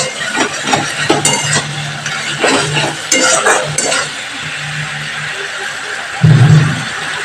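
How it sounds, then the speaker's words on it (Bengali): Masala for an egg curry sautéed and stirred in a pan, with loud sizzling and frying alongside repeated scraping strokes of a spoon, and a heavier clatter near the end. "মশলাটা অবশ্যই তোমরা ভালো করে কষিয়ে নেবে"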